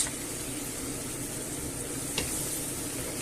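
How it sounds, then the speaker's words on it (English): Fish broth poured into a hot pan of clams and hake noodles and stirred, giving a steady close sizzle and bubbling hiss with a brief scrape or clink midway. "add a ladle of this fish broth. I'll give it a mix."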